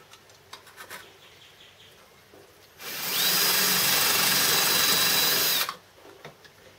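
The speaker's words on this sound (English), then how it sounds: "I'm just spot drilling the position of the motor mount brackets." A power drill whirs steadily for about three seconds while spot drilling hole positions for motor mount brackets on a homemade Gingery milling machine, with quiet handling noises before and after.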